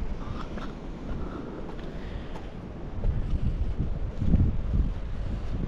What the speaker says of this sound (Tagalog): Malakas ang alon dun,